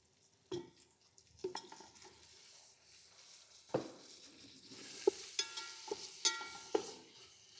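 Mutton mince stir-frying with ginger garlic paste in a pan: a quiet, low sizzle under irregular scrapes and knocks of a spoon turning the meat, close by with no speech.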